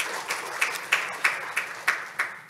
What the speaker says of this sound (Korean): 발표해 주신 산업통상자부 김도원 팀장님께 다시 한번 박수 부탁드리겠습니다